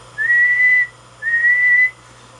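Two long, steady whistle tones through a BLJ-500 linear amplifier on the bench, each held just under a second with a short gap between, clean and loud over a faint hum.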